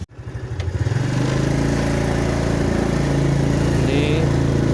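Automatic (matic) scooter engine climbing a steep uphill road under steady throttle, a loud, continuous close-up drone that builds from a low start within the first second and then holds.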